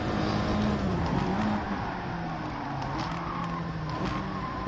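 Audi race car engine at Brands Hatch in a racing game, a loud continuous engine roar with shifting pitch as it runs down the straight, close and steady without talk.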